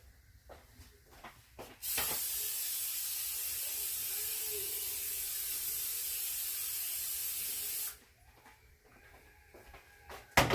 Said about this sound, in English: I'm gonna go spray it over top of this kitchen sink.